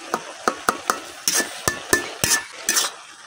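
A utensil stirs boiled taro greens and stalks together in a pot, giving a steady rhythm of scraping strokes and bright metallic clinks against the sides, close and fairly loud.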